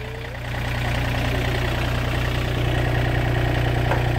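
A steady, low tractor engine idle rumbles close by, growing slightly louder after the first half second and then holding a constant throbbing drone.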